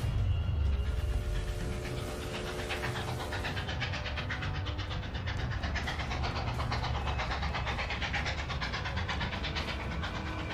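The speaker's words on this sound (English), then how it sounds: "A pack train speeds on its way south" A train rumbles along steadily with a rhythmic rattling clatter and a low, continuous roar, loud and close throughout.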